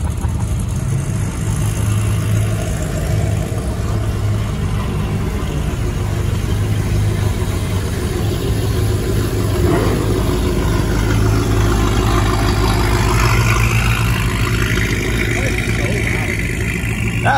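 A car engine idles steadily with a low, constant rumble for the whole stretch, with faint voices and shifting background noise over it.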